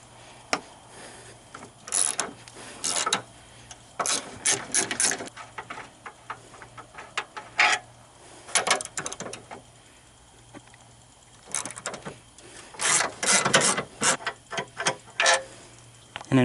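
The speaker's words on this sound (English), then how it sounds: "remove these two 15mm bolts" Ratchet clicking in short bursts while backing out two 15mm alternator bolts on a Chevy Impala with a 3.6L V6, close and moderately loud with pauses between strokes, mixed with faint workshop noise.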